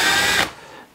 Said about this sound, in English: grab a drill and just make some small holes for the screws